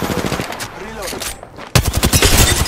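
Gunfire in the battle-royale game Apex Legends, rapid bursts of automatic shots with a harsh, loud volley crashing in near the end, mixed with game sound effects.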